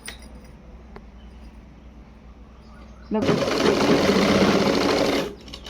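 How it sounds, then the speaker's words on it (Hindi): An electric sewing machine stitching salwar fabric, a loud, fast, steady whir lasting about two seconds, preceded by quiet room sound and a faint click, then stopping abruptly. "यहाँ पे सिलाई पहले हम लगा लेंगे"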